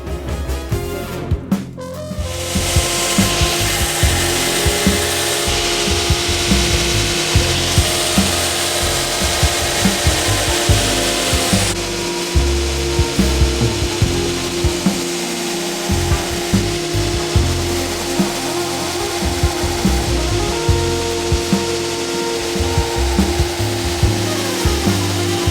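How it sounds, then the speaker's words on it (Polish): A belt grinder works the flat faces of a copper-damascus gyuto chef's knife blade, a steady abrasive rasping hiss with a brief pause near the start and a change of tone partway through, loud and close. "No i wracam na szlifierkę. Teraz będę pracował na tych płaszczyznach."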